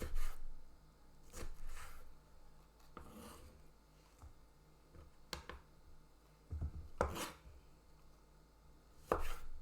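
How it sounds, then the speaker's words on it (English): A knife chops tomatoes on a cutting board close up, with irregular, separate cuts spaced a second or two apart against a quiet kitchen background. "after chopping up this tomato"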